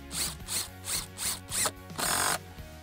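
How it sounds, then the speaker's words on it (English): An impact driver rattles in five short bursts, then one longer sustained burst, driving a SPAX PowerLags screw into a post-to-girder or beam connection without pre-drilling. "no extra tools, one impact driver, it's all go"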